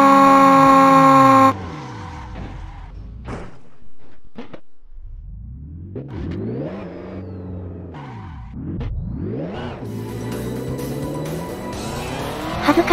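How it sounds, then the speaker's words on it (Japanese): A race car in Assetto Corsa spins out alone after a throttle mistake: a loud engine note cuts off, then tires squeal in rising and falling sweeps as the car slides, ending with the engine roaring back up. "恥ずかしながら、アクセル操作ミスによる、単独スピンです。"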